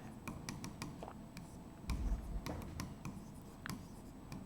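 A pen scratches and taps out notes during a classroom lesson, a quiet run of short irregular ticks and strokes over a soft background hum.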